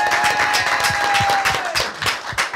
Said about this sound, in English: let's give the teachers and staff a round of applause